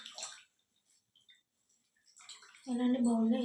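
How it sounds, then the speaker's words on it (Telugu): Fresh coriander leaves rinsed in a bowl of water give brief splashy swishes with quiet pauses between, before a voice starts talking loudly over the end. "ఇలా 4 టైమ్స్ కడుక్కొని 4 or 5 టైమ్స్ కడుక్కోండి"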